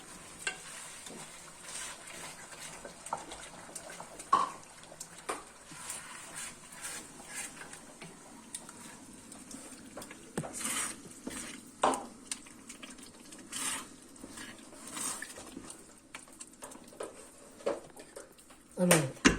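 Bolognese sauce stirred in a pan, with soft intermittent scraping and gentle bubbling under quiet, sporadic talk at a moderate distance.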